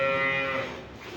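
A purebred Holstein Friesian dairy cow lets out a single close, loud moo that starts as a clear tonal call and fades into a breathy tail within about a second.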